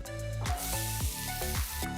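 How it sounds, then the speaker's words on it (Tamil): Finely chopped onions sizzle steadily in hot oil while being sautéed until golden for egg keema, with a few clanking stirs of a utensil against the pan. "வெங்காயம் பொன்னிறமாகிற வரைக்கும் வதக்கணும்"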